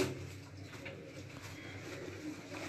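A pigeon in a loft in Gujrat, Pakistan, gives low, soft cooing over a quiet steady background, faint and brief with no talk.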